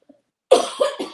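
A woman coughs in the background, three quick close coughs in succession following a brief faint sound.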